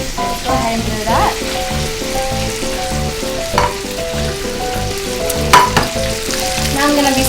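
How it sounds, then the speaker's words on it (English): Onions fry and are stirred in a pan for chop suey, a steady, loud sizzle with occasional clattering bursts from the stirring. "Now we're ready to put the onions"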